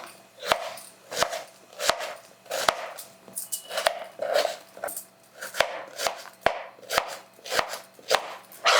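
Onion being sliced with a knife on a board in a home kitchen, sharp regular chops in a steady rhythm, close and clear with no talking.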